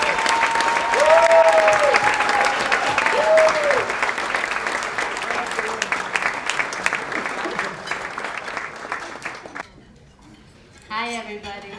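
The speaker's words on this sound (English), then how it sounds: "let's give a big round of applause." An audience at an evening honors event for past presidents bursts into steady, full applause that lasts about nine seconds, then fades. A speaker's voice begins briefly at the end.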